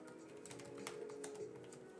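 Steady typing on a Lenovo Pro 7 Gen 8 laptop keyboard (2023), a continuous run of soft, close key clicks with no talking.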